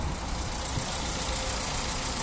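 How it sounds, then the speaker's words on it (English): A 2002 Nissan K11 Micra 1.0 automatic idles with a steady, even hum and a faint rattle, heard up close and continuous with no talking. "If you listen to the engine."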